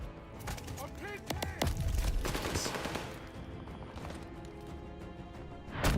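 Heavy gunfire in the video game Call of Duty Vanguard multiplayer beta, rapid bursts of automatic weapon shots and sharp cracks crowding the first seconds, then tailing off beneath shouted in-game voices and talk.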